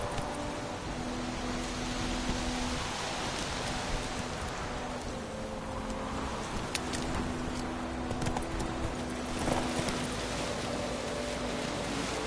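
Horse hooves galloping in The Witcher 3 game, a steady rapid clip-clop running under a continuous wash of ambient noise and soft tones, moderately loud and unbroken, with no voices.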